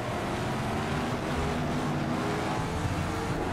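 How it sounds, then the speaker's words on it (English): Race car engine in Project CARS 2 during a six-hour GT race at Silverstone, a loud continuous roaring drone with a dense, steady tone and no pauses, heard up close and alone. "It's a pretty nice sounding car, isn't it, though?"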